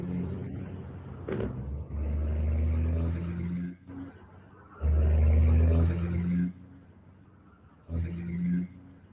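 A recorded truck engine plays back as deep rumbling revs that swell and fade in three bursts, loud and low, with people talking over it.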